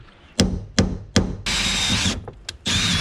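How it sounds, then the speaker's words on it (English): Sharp knocks on wood, then a power drill whirs in two bursts drilling a 5/16-inch hole on a Toyota 4Runner, each spin-up loud and close, with a brief tap between. "drill a 5/16 hole right above this hole"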